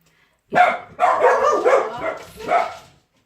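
Dogs bark in several close, loud bursts: a single bark, then a longer run of barking, and one more bark near the end, with no other sound around them.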